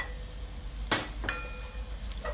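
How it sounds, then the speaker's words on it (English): Tomatoes dropped into curry paste in a pan give a soft, steady sizzle with one sharp burst and a few faint scraping touches, quiet and close. "I'm gonna add in a little tomatoes to the mix."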